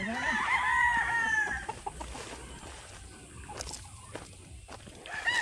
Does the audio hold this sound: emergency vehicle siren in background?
no